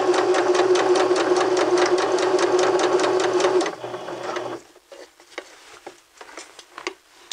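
A sewing machine stitches fabric at a steady speed, a close rapid mechanical chatter that runs for several seconds, then slows and stops, leaving faint scattered handling noises of the cloth.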